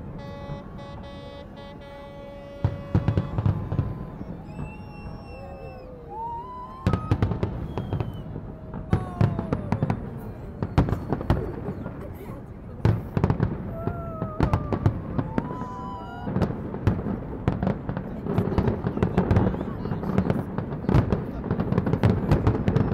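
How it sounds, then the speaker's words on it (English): New Year fireworks over London burst repeatedly amid a waiting crowd by a bridge, sharp cracks and booms over steady crowd murmur, with whistling rockets rising. "there are many people waiting in here for seeing the fireworks"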